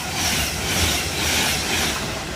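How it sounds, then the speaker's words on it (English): A Virgin express train passes straight through Longport station on the West Coast Main Line, a continuous loud rushing roar with rail hiss and rumbling wheels, no voices. "Will be your 11:52, 1 hour 18 Virgin train service in London Euston to Manchester Piccadilly."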